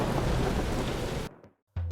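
Heavy rain pours steadily with thunder rumbling, an animation sound effect that cuts off abruptly into near silence before the downpour bursts back in.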